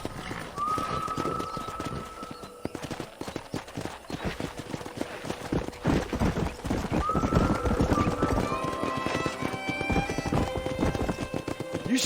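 Horses in the Western video game Red Dead Redemption gallop with continuous rhythmic clip-clop hoofbeats, joined by several loud neighs and whinnies, with faint talk beneath.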